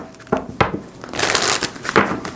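A tarot deck is shuffled by hand in several quick riffles and crunching bursts, close and crisp, with no talking.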